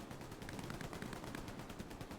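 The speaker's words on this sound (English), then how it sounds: "He gets the pistol kill onto Nerved MG." Steady, distant gunfire crackles in the video game Hell Let Loose, a dense continuous patter of shots with no voice over it.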